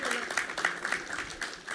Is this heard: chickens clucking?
no